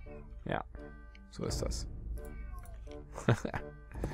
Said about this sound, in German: Hier ist eine Katze, die sich beschwert